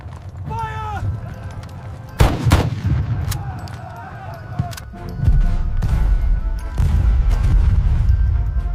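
Rifle volleys and artillery fire boom through a battle scene of the 1898 Battle of Omdurman, with sharp shots spread across the clip, hoofbeats and shouting voices mixed in.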